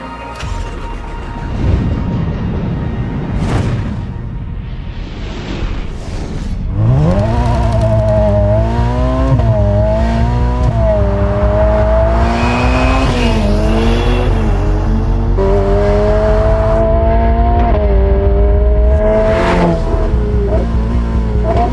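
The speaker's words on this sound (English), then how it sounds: "Marvel for a moment at the result of combusting compressed fuel and air in Ferrari's stripped out, fully focused 488 Pista." A stripped-out, track-focused Ferrari 488 Pista revs hard and accelerates, its loud engine note climbing through rising pitch sweeps with brief tire squeal, sustained and close for most of the run after a rougher opening.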